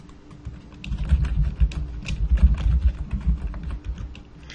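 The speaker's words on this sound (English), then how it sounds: "I'm just going to go ahead and type down site, or test site" Fingers type steadily on a computer keyboard while a site name is entered during a manual Joomla 1.7 install, with brisk irregular clatter of keystrokes throughout and no talking.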